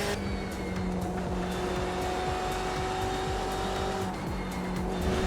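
A GT race car spinning out on a track in Austria in a racing video game, its tyres squealing and skidding over a steady, loud engine drone that holds throughout with no voices.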